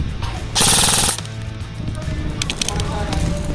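A King Arms M4 airsoft rifle fires a short full-auto burst, a rapid mechanical rattle of about half a second, with someone talking quietly around it.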